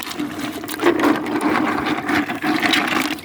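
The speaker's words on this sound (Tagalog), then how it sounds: "magbrush ako nito" Harvested river oysters and shells are scrubbed with a brush in water, making steady, rough rubbing strokes in close, repeated bursts with no voices.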